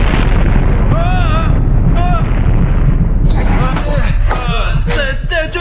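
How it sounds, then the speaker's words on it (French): Explosion in the Metro video game starring Artyom, a loud sustained booming roar filling the whole clip, with sharp chirping tones and crackling debris bursts over it. "C'était une explosion."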